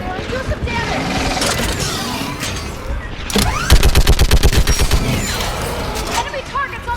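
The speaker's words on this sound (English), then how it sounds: "Get on that gun up there and do some damage!" A mounted gun firing during a battle in Mass Effect 3, with bursts of heavy gunfire and a rapid, rhythmic volley in the middle, loud and close, mixed with background combat noise.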